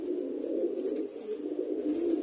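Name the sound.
female pet pigeon cooing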